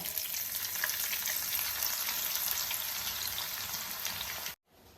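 Sliced onions sizzle steadily in hot coconut oil for a Kerala prawn biryani, a dense, even crackle that stays loud and close without voices before cutting off abruptly near the end.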